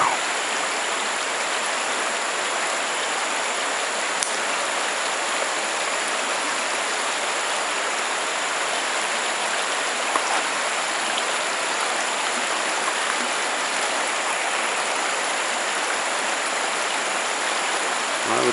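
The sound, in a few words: small river flowing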